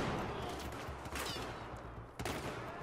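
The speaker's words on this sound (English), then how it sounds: "How did they shoot me through that?" Loud, close automatic gunfire in Battlefield 4, a steady stream of shots broken by two sharper blasts, with no voices.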